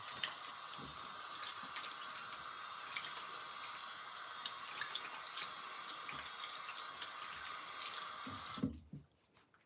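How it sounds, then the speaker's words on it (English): Water runs steadily from a tap for hair washing, a continuous close hissing splash that stops abruptly near the end. "Let me just wash my hair."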